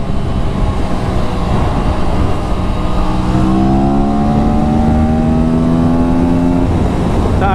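An Aprilia RS 457 motorcycle accelerates hard through its gears with a quickshifter. The loud engine note climbs steadily in pitch, then cuts off sharply at a shift, with steady wind and road roar underneath throughout.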